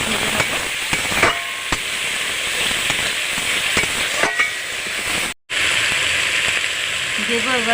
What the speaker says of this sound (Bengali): আমি আর মশলাটা একটু ভেজে নেব।